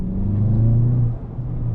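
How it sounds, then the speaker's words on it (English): A new turbocharged car engine pulls hard under acceleration, a loud, close, steady low drone with a rising whine, dipping briefly near the end before picking back up. "You can hear the turbo. The turbo is very prominent."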